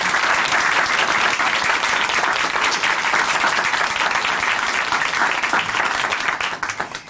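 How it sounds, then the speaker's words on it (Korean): An audience in a Korean Christian church television show breaks into loud, sustained applause. It holds steady for several seconds and then begins to taper off at the end. "다시 한번 큰 박수 보내드릴게요"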